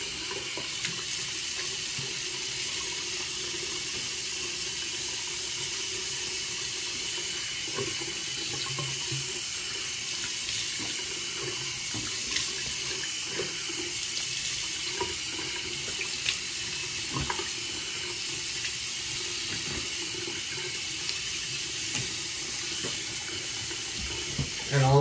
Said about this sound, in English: And then after that, I have to rinse.